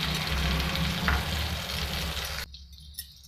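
Spices stirred into spicy tomato chutney frying in a pan give a loud continuous sizzle with scraping stir strokes, then the sizzle cuts off sharply near the end, leaving a faint clink.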